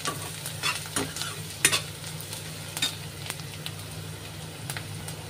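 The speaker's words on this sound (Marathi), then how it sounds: "तर आता कांदा हा छान लाल परतून घ्यायचा आहे" Onion sautéing in a pan until reddish brown, cooked for a soybean masala; a steady close sizzle runs throughout, broken by scraping stirs and a few sharper crackles.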